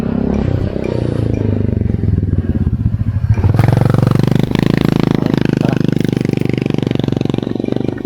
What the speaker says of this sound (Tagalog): Padaanin muna natin yung motor.